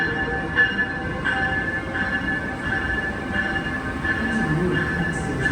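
An Amtrak train at a station in America gives off a continuous, loud rumble with a steady tonal hum and faint rhythmic clanks throughout.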